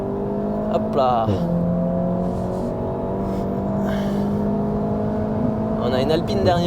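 Seat Leon Cupra 300 engine pulling hard on a race circuit, a steady loud drone with rising harmonics through the straight and a brief gear-change dip, heard from inside the car.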